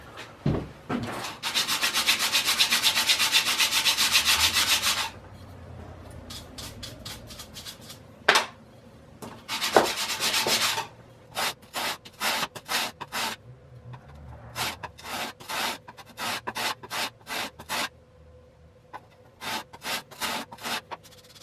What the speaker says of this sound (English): This sandpaper is taking away a lot of material very quick